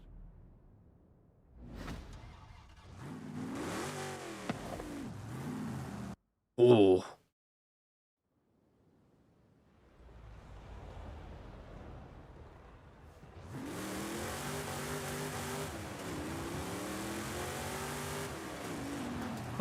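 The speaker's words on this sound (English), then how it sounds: "We will end the stream by listening to the glory that is the Mustang Mach 1" A Ford Mustang Mach 1 in Forza Horizon 5 revs through a series of rising and falling engine sweeps, drops into near silence, then returns with a louder, sustained run of throaty revving near the end; a brief exclamation cuts in.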